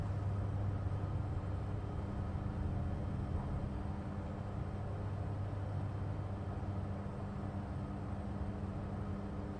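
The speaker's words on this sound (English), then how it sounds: "It's a very short takeoff, this one." Small aeroplane taking off on a short runway on the Isles of Scilly, a steady, close engine drone at full power that rumbles on without a break.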